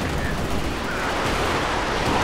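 A steady, loud barrage of rocket and artillery fire in the video game Company of Heroes 2, with continuous rumbling blasts and no clear gaps.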